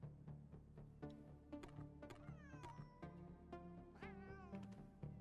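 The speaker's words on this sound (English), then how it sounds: "Oh, that's a cat." A cat meows several times in a cyberpunk ghost-story video game, producing short, rising and falling cries over a steady low musical drone and quiet in-game ambience.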